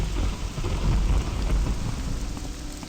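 Steady rain pours in the role-playing game Morrowind, a dense continuous wash with low rumbling underneath, even and unbroken throughout with no talking.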